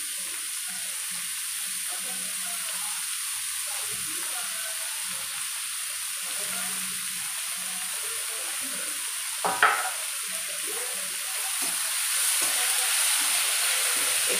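Bottle gourd pieces roasting in a pan for dudhi halwa give a steady, quiet sizzle with soft stirring scrapes, one brief clatter near the middle, and no talk.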